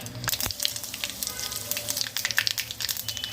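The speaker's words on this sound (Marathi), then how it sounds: "नुसत्या मोहरीची पण छान होते मोहरी मस्तपैकी तडतडल्यानंतर आपण यामध्ये हिंग घालूया" Mustard seeds spluttering and popping in hot oil for a dal tempering, a dense crackle of sharp pops over a steady sizzle, close and continuous throughout.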